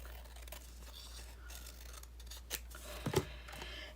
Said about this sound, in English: I can just take my scissors and trim that off